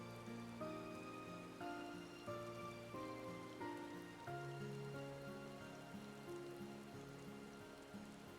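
Steady rain falls in a video game, a soft even patter that continues throughout and sits under layered tonal game music, with no talking.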